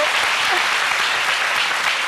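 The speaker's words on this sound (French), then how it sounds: "Merci d'applaudir très fort Paterne, la senior." A French television studio audience applauds loudly for a guest at the table. The clapping is dense and steady, filling the room without a break for a couple of seconds.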